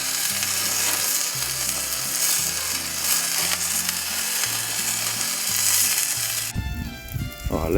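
A burger patty for a Juicy Lucy Mexicano burger fries in a pan, giving a steady sizzle under rhythmic background music, with a brief clatter near the end.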